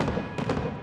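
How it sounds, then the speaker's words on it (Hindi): Opening fireworks at a Kanpur Premier League cricket match crackle and thump in quick bursts, with a sharp pop near the middle over a steady crowd-like rumble. "आतिशबाजी,"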